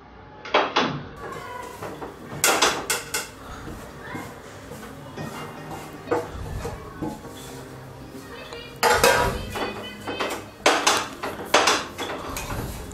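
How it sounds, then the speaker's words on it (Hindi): Mashed potato and chopped onion being mixed by hand in a metal bowl for Jodhpur-style kachori filling, with repeated clanks and scrapes of utensils against the bowl, loud and close, in irregular bursts. "कांदा और आलू को दोनों को अच्छे मिक्स करना है।"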